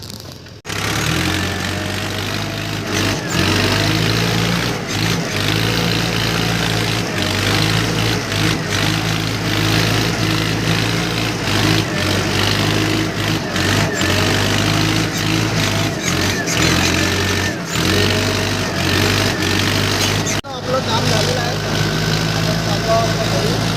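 Two tractors work a field with a continuous low engine rumble and drone at moderate distance, steady for the whole stretch, with people talking now and then.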